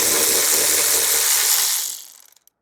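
A ratchet with a 10mm socket undoes a rear spoiler bolt on a Mini Cooper S R53/R50: a loud, fast, continuous buzzing ratchet whir up close that slows into a few separate clicks and then stops.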